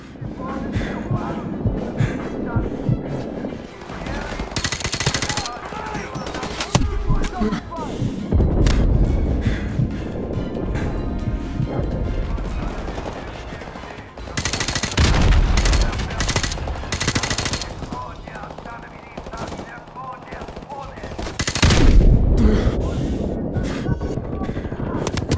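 Call of Duty: Modern Warfare Remastered battle with rapid machine-gun fire, repeated grenade explosions and heavy booms in bursts, dense and loud, with voices talking through the combat.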